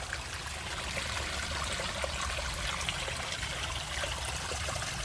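A mountain valley stream flows steadily through a forested ravine after heavy rain, a continuous, close rushing and trickling of water with no voices.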